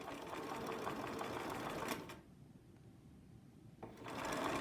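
Domestic sewing machine stitching along nested quilt seams, a steady dense whir that drops out for a pause in the middle and then resumes near and loud.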